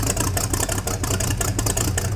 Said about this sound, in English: It's idling a little too low right now